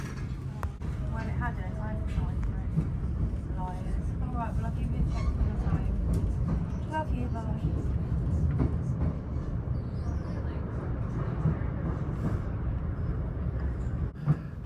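A passenger train setting off from Carlisle on the Glasgow South Western line, heading north toward Glasgow, gives a steady loud low rumble and rolling hum throughout, with a voice talking over it.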